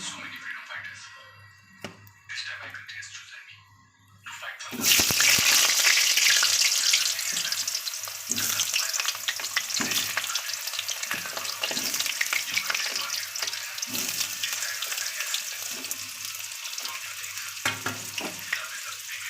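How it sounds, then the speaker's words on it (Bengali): Potatoes slid one by one into hot oil, a quiet start with a voice talking, then a sudden loud crackling sizzle that keeps bubbling steadily under continued speech. "তেল গরম হয়ে গেছে এবার এর মধ্যে আমরা আলুগুলো ছেড়ে দিচ্ছি একে একে"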